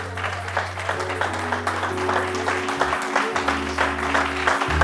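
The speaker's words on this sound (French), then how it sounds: "qui peut acclamer le Seigneur ici là?" A church congregation applauds and cheers for the Lord during a sermon, with a steady, dense wash of clapping and crowd noise that runs through the whole stretch over a low sustained tone.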